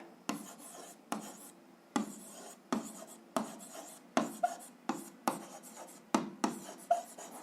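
A pen scratches out an algebra answer on paper in a series of short, rhythmic strokes with brief pauses between them, close and quiet with no talking.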